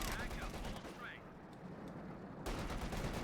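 Sustained machine gun fire from a .50 cal emplacement manned by Jaeger infantry in the strategy game Company of Heroes 2, loud and continuous with dense overlapping bursts, and a brief voice heard early on.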